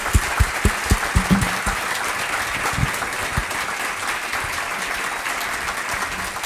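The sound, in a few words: audience applause for panelists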